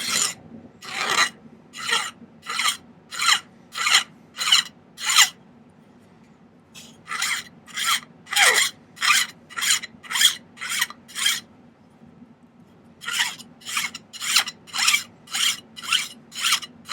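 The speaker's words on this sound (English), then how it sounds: "let's file a flat spot up here" A file rasps a flat spot onto a silver ring in crisp, rhythmic back-and-forth strokes, close and loud, in three runs of about six strokes each with short pauses between them.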